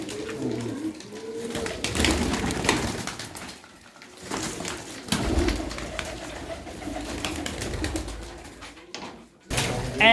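Blue pigeons coo softly in a loft with eggs and chicks, mixed with rustling, wing flutters and thumps. The cooing recurs through a busy, close, uneven stretch.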